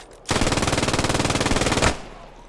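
An MG 42 machine gun in a video game fires one fast, continuous burst of roughly a second and a half, loud and close with a rapid even rattle, then cuts off abruptly.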